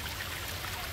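A brief, steady splash of spring water running from a pipe at Tecotrini, Ciudad Delgado, San Salvador, heard close and continuous.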